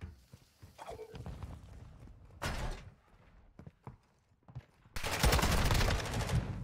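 Gunfire in Call of Duty: Modern Warfare 2 during a ranked match: a short burst near 2.5 seconds, then a sustained loud volley of rapid shots over the last second and a half, with scattered footsteps and game noise between.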